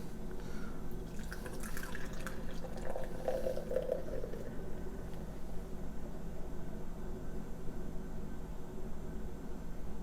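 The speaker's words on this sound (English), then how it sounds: "So let's crack her open and pour it out." Liquid pouring and splashing steadily into a glass for a few seconds over a constant low background hum, then a quieter fizzing trail.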